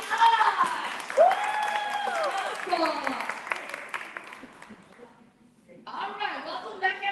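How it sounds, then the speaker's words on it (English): A forum audience applauds their host, a steady round of clapping with voices over it, fading out around five seconds before talk resumes. "Can we give a round of applause for our host?"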